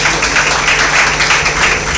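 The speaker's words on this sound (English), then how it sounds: "A big round of applause for him" Audience at a medical institute award ceremony applauding, a dense steady wash of clapping throughout, fairly loud and close.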